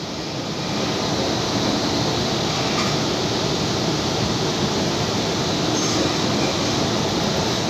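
A Sydney commuter train runs past stations without stopping, heard from inside as a steady loud roar of wheels on rails and rushing air.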